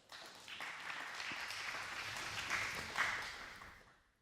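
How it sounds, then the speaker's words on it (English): Applause from a worship-meeting audience, steady and moderately distant, building quickly and then tapering off over a few seconds with no talk. "Yeah, you can clap for that."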